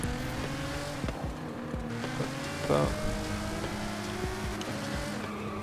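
2020 Nissan GT-R Nismo engine in Forza Horizon 5, a steady moderate drone with shifting harmonic tones as it cruises and shifts, a brief burst of tyre noise midway, and a voice speaking briefly over it.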